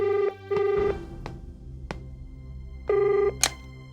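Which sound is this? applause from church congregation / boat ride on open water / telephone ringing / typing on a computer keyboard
telephone ringing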